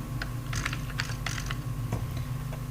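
A computer keyboard clicks under irregular bursts of close, light keystrokes against a steady low background hum as data is typed.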